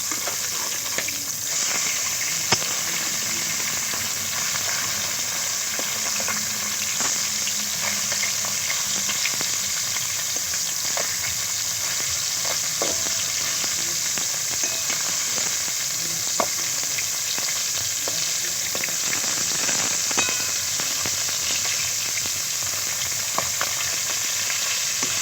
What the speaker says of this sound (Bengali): মাছ খুব ভালো করে লাল লাল করে ভেজে নিয়েছি দেখুন